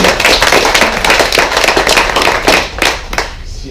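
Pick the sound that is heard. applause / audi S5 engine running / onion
applause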